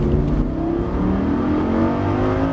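A Lamborghini Gallardo LP560-4 engine revs hard and climbs steadily in pitch, loud and close, a sustained full-throttle acceleration on a race circuit with no voices.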